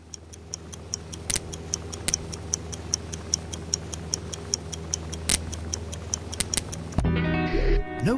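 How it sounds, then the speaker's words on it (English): A ticking bomb in the VR game I Expect You to Die beats out steady, regular clicks with a low hum beneath, ending in a short burst of other game sounds. "Oh, the old ticking bomb."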